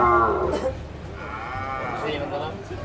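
Cattle and carabao bought in the mountains moo in several long, low calls close by, with people talking over and between the animals.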